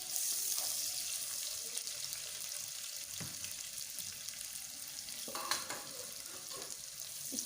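Two large chopped onions fry in half a cup of oil with a soft, continuous sizzle. Occasional spoon scrapes and clinks from stirring sit over the quiet hiss.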